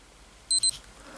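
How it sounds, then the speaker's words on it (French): A COOKOO smartwatch gives two quick, high-pitched electronic beeps in close succession, sharp and clear against near silence. "jusqu'à atteindre un double bip avec toutes les icônes qui clignotent au cadran"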